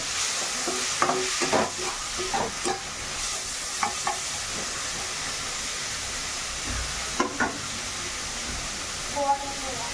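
Golden onions and tomato frying in a pan while being stirred, a continuous sizzle broken by repeated scraping strokes of the spatula, with brief voices in the background.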